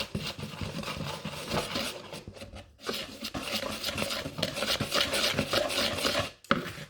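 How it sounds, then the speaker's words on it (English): Dry ingredients for gingerbread pancakes are whisked in a bowl, a dense, continuous scratchy rattle of wire against the bowl with brief pauses, loud and close. "Now I'm going to whisk my dry ingredients together."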